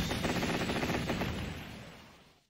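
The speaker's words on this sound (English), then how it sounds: "Oh yeah, he's exploding." In a Capcom beat 'em up game, a boss blows apart in a loud run of rapid, rattling explosion bursts that gradually fade out over about two seconds, with no talk over it.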